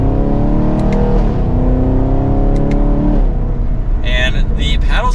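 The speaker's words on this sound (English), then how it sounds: "That V8 sounds very, very nice." The stock V8 exhaust of a 2024 Chevrolet Camaro 2SS convertible gives a loud, deep drone whose pitch sweeps up and down as it revs, with voices joining near the end.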